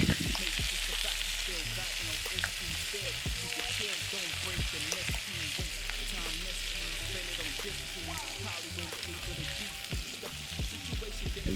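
Beef sears in a hot pan for a tagine, a loud, continuous close-up sizzle and crackle with small pops throughout.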